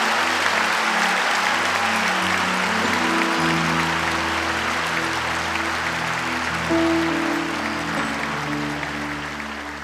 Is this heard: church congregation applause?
yes